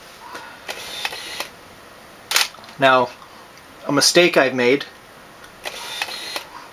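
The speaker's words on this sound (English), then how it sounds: "I'm sure you can hear the lens focusing every single time." A Nikon D600 camera shooting a timelapse gives brief lens-focus whirs and shutter clicks at intervals, close and crisp, broken up by someone talking.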